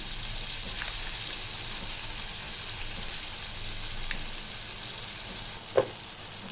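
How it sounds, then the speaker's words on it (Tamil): Chicken sautéing with salt in a pan gives a steady, faint sizzle with a few soft stirring knocks, heard close and alone. "இப்போ இந்த சிக்கன் பாருங்கள் நல்லா கொஞ்சம் வதங்கிடுச்சு"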